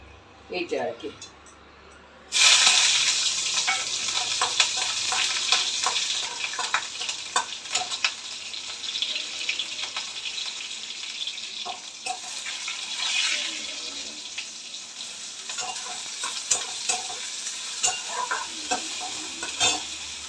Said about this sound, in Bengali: তো আমি ফোড়ঙে নিচ্ছি দিস ইজ জিরে আর কাঁচা লঙ্কা